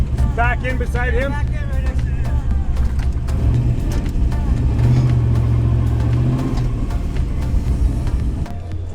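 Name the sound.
cars driving in and lining up at Sick Week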